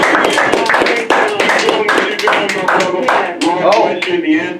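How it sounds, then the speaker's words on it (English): Audience applause at a live show, a series of loud, uneven claps mixed with cheering and voices close by. "Give them a round of applause."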